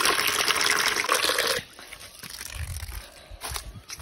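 Water pouring into a container while planting seasonal summer vegetables, a loud rushing stream that cuts off abruptly, followed by quieter splashes and handling sounds.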